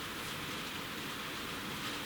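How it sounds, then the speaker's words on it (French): Heavy rain falling outdoors, a steady loud broadband hiss with no breaks or voices. "Parce que là, il pleut beaucoup, en fait."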